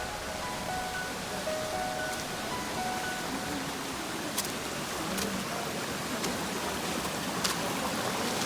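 Water rushing at Vallichunai waterfall near Nagercoil, a steady broadband roar that holds evenly throughout with no talk over it.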